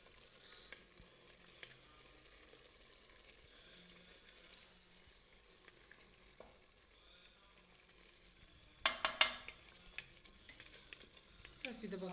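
Chicken pieces frying in about half a glass of oil in a pan, a soft steady sizzle throughout, faint and quiet, with a louder burst of crackling and clatter near the end.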